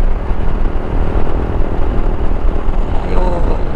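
A motorcycle engine drones loudly while riding, a rough, continuous mid-range roar mixed with wind buffeting, steady through the clip.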